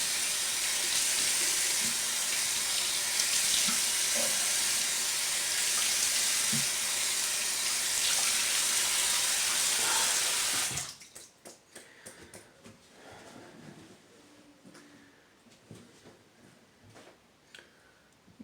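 Tap water gushes loudly into a sink for about ten seconds while water is added to shaving lather, then shuts off, leaving faint drips, clinks and small handling sounds nearby.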